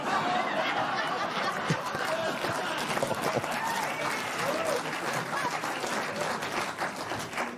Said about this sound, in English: Terrible that you would applaud that.